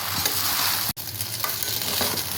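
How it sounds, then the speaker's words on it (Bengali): Chowmein stir-fried with two spoons in a hot pan for Bengali-style chicken noodles, a continuous close sizzle with scraping stirs, briefly cut by a short dropout near the middle. "এরকমভাবে দুটো চামচ দিয়ে এইরকমভাবে নেড়ে নেড়ে এটাকে ভাজা করে নিতে হবে"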